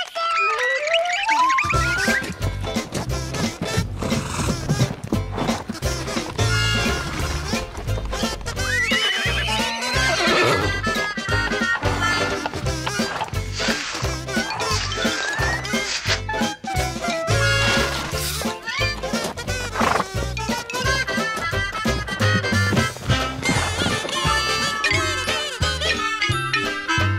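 Loud horse neighs and whinnies over a busy musical backing with steady rhythmic clip-clop beats running throughout.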